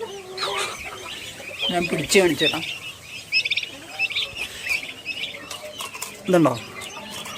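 A month-old black turkey chick calls in repeated high, chirping peeps, close and fairly clear, mixed with someone talking nearby.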